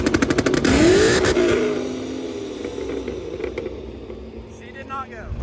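A procharged 2012 Ford Mustang GT, making so much torque that a part gave way, launches with a loud, close engine roar that surges at first and then gradually fades to a lower, steadier drone.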